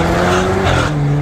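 A modified car accelerating close by, its exhaust a loud, harsh, snarling drone that rises briefly in a short burst.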